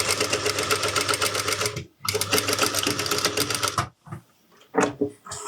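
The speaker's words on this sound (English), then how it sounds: "I'm going to sew following the chalk mark line on the front facing." A sewing machine runs steadily, stitching along a chalk-marked line on the front facing of a shirt, with two continuous loud bursts of stitching separated by a brief stop, then quieter handling noises.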